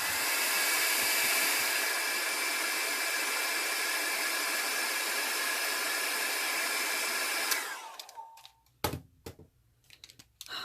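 A hair dryer blows steadily and loudly on alcohol ink for several seconds, then cuts off, leaving a few faint clicks and handling noises in near silence.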